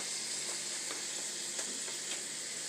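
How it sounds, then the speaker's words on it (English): Onions sautéing in a pan give a steady, close sizzle with soft crackles and occasional spatters throughout, and no voices. "I'm just sauteing my onions"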